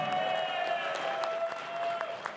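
Audience applause at a design contest held at a Las Vegas conference, a moderate, continuous patter of clapping from a crowd. A sustained tonal hum runs underneath it.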